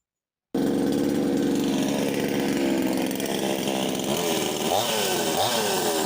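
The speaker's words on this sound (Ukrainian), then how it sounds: "заводжу пилу" After a moment of silence a chainsaw starts up loud and close, running continuously, its pitch dipping and rising as it bites into a hollow tree trunk holding a wintering bee colony near the end.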